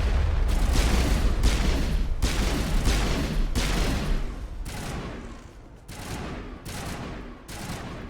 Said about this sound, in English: There must be a way to shut that gun down.